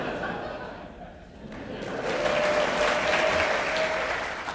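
Audience at a comedy talk show gives light scattered clapping that swells into fuller applause mixed with some laughter, held at a steady level before easing off slightly at the end.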